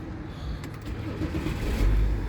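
A BMW X5 E70 3.0-litre diesel engine idles quietly and steadily, a low, smooth hum with no voices.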